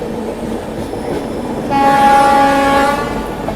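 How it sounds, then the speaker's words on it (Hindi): The Kanpur Shatabdi Express runs alongside the Rajdhani train, its wheels rumbling and clattering steadily before a loud, sustained train horn sounds close by and then fades under the rolling noise. "दोनों ट्रेन को ग्रीन सिग्नल है, अपनी ट्रेन को भी और बगल में राजधानी को भी।"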